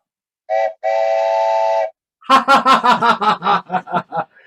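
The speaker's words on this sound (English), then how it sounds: "I heard that train whistle all the way from Maine." A train whistle sounds twice, a short blast then a longer sustained one, followed by a burst of rhythmic laughter.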